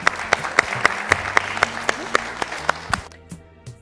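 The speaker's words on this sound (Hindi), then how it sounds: "बहुत बहुत जोरदार तालियां।" A studio audience at an Ayurveda addiction talk show bursts into loud applause, with sharp claps falling into a strong, regular rhythm over steady clapping before it fades near the end.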